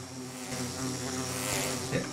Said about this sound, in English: Why did it summon an invisible bee?